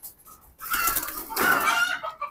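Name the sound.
Military breed pigeons cooing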